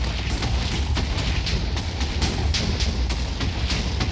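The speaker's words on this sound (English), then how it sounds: "I almost got exploded because one of the TNTs bounced off a little bit" TNT explosions in Minecraft go off as a rapid chain of booms, dense and continuous, close and loud with no talk.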